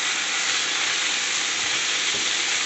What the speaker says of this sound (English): I'm just browning the chicken pieces just to add some more flavor